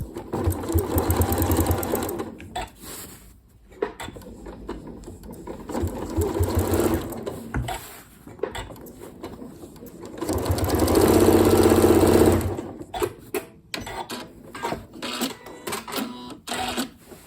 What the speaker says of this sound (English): I'm sewing so that you can see my stitches